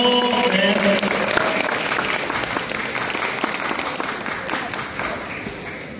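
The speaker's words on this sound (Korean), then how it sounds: "자, 여러분 다시 한번 큰 박수 보내주시고" A crowd at a Sejong City filial-piety festival gives a loud burst of applause, dense clapping filling the space and tapering gradually, with brief tonal sounds from a loudspeaker at the very start.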